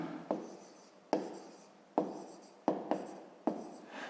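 A pen writes by hand on paper while a fifth-grade math problem is solved. The short scratchy strokes come in separate bursts, each starting with a sharp tap and then fading. The sound is close and quiet, with no talk.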